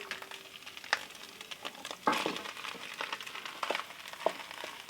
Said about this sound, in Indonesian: Oseng atau aduk hingga benar-benar tercampur.